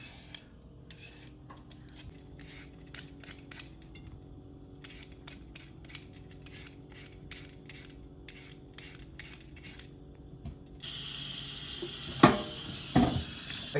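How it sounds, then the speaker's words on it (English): Carrot peeled with a peeler for Jamaican chicken soup, a run of quick rhythmic rasping scrapes in bursts, close and alone, then a louder clatter near the end. "I'm peeling my carrot, so I can also put it inside the coconut milk"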